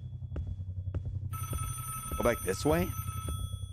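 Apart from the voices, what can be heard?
telephone ringing in a video game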